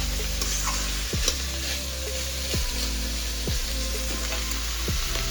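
Food sizzles steadily in a hot pan beside cooking lentils, with a few sharp scraping stirs at intervals and no talking.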